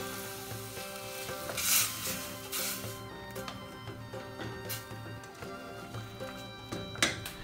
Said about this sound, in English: Then add 1 cup hot water and mix well.